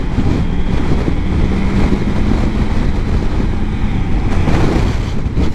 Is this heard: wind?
yes